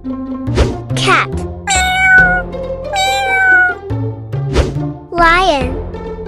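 Cartoonish cat meows ring out several times, loud and close, among bright musical tones in a kids' animal guessing game, with someone speaking between them.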